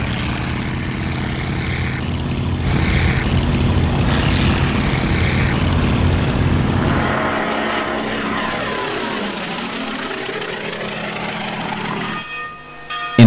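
A propeller fighter plane, a Polikarpov I-15 'Chato', takes off from the Els Monjos aerodrome during the Spanish Civil War, its engine droning loudly before sweeping past and fading into the distance, with no voices.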